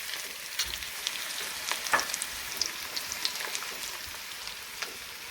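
Chopped onions, two of them, frying in hot oil for a fish curry, giving a steady, close sizzle with light crackles and occasional stirring clicks throughout, no voices.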